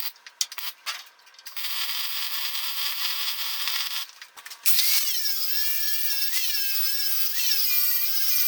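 Welding steel tabs onto a grinder storage rack gives a steady, fairly loud electric buzz and crackle, broken by short pauses, then a sustained whining tone near the end.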